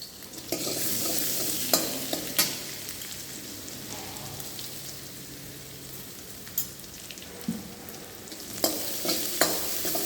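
Chopped garlic and ginger sauté in hot oil for vegetable spring rolls, a steady crackling sizzle broken by several sharp clanks of a spoon against the pan.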